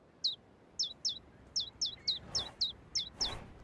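Small birds chirp in a series of about ten short, bright, high tweets at a steady, slightly uneven pace, close and clear over a quiet background.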